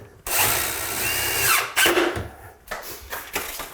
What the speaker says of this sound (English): I'm basically screwing the left side of the mending plate to one panel